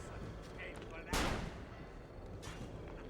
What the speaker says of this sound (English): The fastest way to deal with them is just to shoot them.